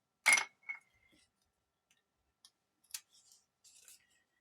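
A few sharp metallic snips and clicks of scissors cutting paper, with brief quiet gaps between them, close and fairly faint.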